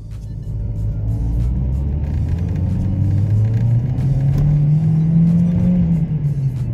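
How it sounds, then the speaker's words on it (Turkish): A warmed-up Seat Cordoba engine revs in aggressive mode, a loud, steady close-up rumble whose pitch climbs and then eases back over several seconds, with no talking. "valla araba ısındığı zaman çok güzel sesi var, or böyle horluyor"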